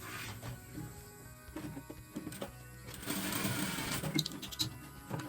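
A sewing machine stitches the continuation of a seam on a fabric sousplat, or placemat block, close up: a steady whirring run, broken by short pauses and a louder burst near the end, with no talking.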